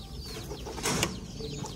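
A hen clucks softly in short, uneven bursts against a steady background hiss, with a slightly louder flurry partway through.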